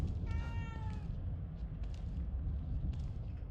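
A cat meows once, drawn out, inside The Evil Within 2, set over a loud low rumbling ambient drone. A few faint knocks follow later.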